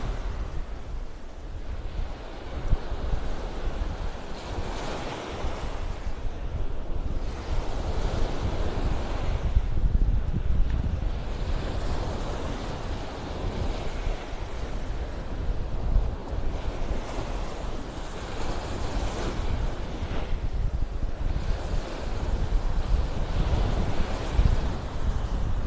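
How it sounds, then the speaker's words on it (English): Steady breeze blowing in off the water at a beach on the Gulf, with continuous wind rush and soft surf wash across the whole stretch, swelling and easing gently with no voices. "Little breeze coming in off the water here."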